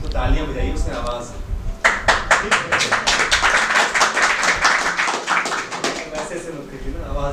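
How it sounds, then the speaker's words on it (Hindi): At a Hindi poetry stage performance, the audience breaks into loud, rapid clapping that lasts several seconds before easing off, with a voice heard around it. "तालियां बजाइए"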